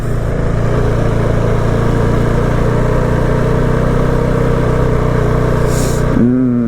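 Honda CRF450RL dual-sport motorcycle engine running steadily while riding on a daily commute, a loud continuous mid-pitched drone close to the rider, with a brief shift near the end.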